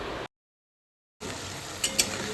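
Ginger paste and potatoes stir-frying in oil in a home kitchen, a steady faint sizzle with a couple of spoon scrapes against the pan, broken by a full second of silence.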